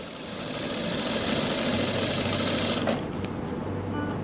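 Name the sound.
sewing machine stitching a frock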